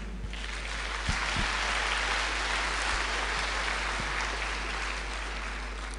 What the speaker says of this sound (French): je ne vais pas tarder les inviter sur la scène, sous vos applaudissements.